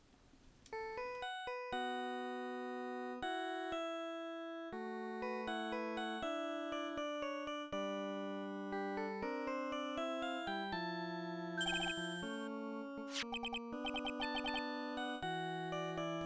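A melodic electronic phone ringtone from Phoenix Wright: Trials & Tribulations plays alone, a clean sequence of sustained synth tones stepping through a tune, with brief chiming accents near the end.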